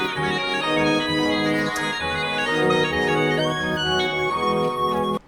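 A guitar plays a melodic line over a full band mix in the outro of a song, steady and fairly loud before cutting off abruptly at the end.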